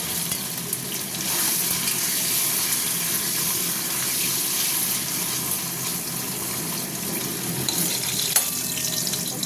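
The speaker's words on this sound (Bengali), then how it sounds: "এদিকে পনিরটা দিয়ে দিলাম, ভাজবো।" Paneer fries in hot oil in a pan, giving a steady, close, hissing sizzle that runs unbroken throughout with a few faint clinks, and no one speaks.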